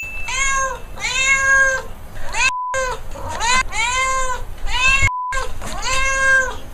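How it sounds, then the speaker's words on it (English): A cat meows in a string of loud, close, drawn-out calls, about eight in quick succession in two bursts with short silent gaps between them. "I'm just going to ask my cat Wallace to take it from here"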